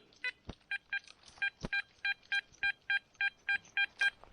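A Garrett Ace Apex metal detector gives a run of about a dozen short, evenly spaced electronic beeps, crisp and fairly loud, with a couple of low thumps in between and no talking.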